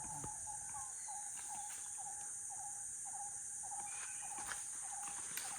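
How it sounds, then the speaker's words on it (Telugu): In a forest, a small bird repeats short, faint chirping calls at a steady pace over a continuous high drone of insects. "ఏదో పిట్టా."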